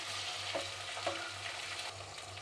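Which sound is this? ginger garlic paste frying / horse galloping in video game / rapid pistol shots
ginger garlic paste frying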